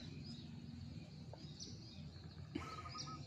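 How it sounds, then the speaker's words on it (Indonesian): Faint, scattered bird chirps and calls carry through a quiet natural outdoor setting at midday, thin and distant over a soft background hiss. "Suara-suara burung ini menemani saya pada siang hari ini."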